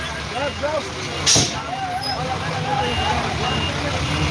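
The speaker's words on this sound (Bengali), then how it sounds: "আপনারা দেখছেন যে ফায়ার সার্ভিসের যে গাড়ি সেই গাড়ি আছে এখানে" A fire service truck manoeuvres at a bus-accident rescue in Ghopal village, letting out one short, loud air-brake hiss over a steady engine rumble while several people shout and talk nearby.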